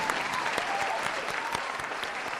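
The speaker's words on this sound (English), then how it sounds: "One more big round of applause for them this evening." An evening audience gives award winners a round of applause. The clapping is steady and fairly distant, with a few sharper individual claps standing out, and it continues for the whole stretch.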